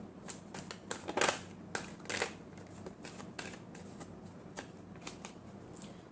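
Tarot cards being shuffled, a series of quick riffling bursts and soft flicks, close and fairly quiet, with no talk.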